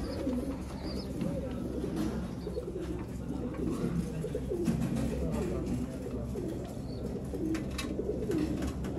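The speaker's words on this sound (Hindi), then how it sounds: "कसूरी कबूतर।" Kasuri pigeons coo in low, soft repeated phrases throughout, a steady near murmur of several birds with faint background noise.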